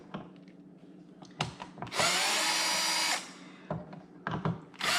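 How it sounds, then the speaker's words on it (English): A power drill whirs loudly for about a second, surrounded by clicks, taps and handling noises of a screw being worked loose from a kayak's pedal drive unit. "I'm going to use a drill to get this out a little quicker."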